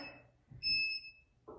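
Electronic beeps from a workout timer during a weights session: a short, steady high-pitched beep stands out clearly between quieter breathing or movement noise, with soft faint speech at the edges.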